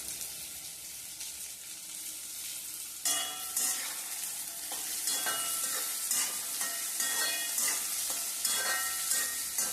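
Small shallots and green chillies are sautéed in a pan for a Kerala-style clam stir-fry, giving a steady sizzle and crackle with occasional stirring scrapes. No voices are heard.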